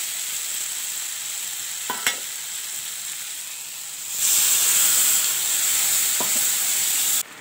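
Poppy seed and chili paste sizzles and hisses steadily in a pan while aloo posto cooks. The frying gets louder about halfway through, with a couple of faint clinks and no talk.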